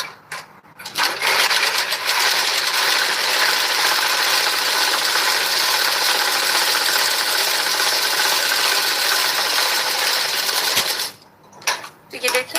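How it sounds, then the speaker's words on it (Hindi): A sewing machine stitches a straight seam on a blouse, running in one steady rapid buzz for about ten seconds, close and loud, then stopping with brief handling noises afterward. "तो यहाँ पर सीधी तरफ से हम इस पट्टी को रखेंगे और इसके ऊपर सीधी सिलाई लगाएंगे।"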